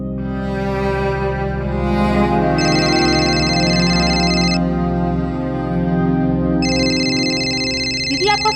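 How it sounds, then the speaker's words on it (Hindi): A mobile phone ringing indoors: a steady electronic ringtone melody with high beeping bursts that repeat at intervals, fairly loud and continuous, heard over a background of music. "आपका फोन बज रहा है।"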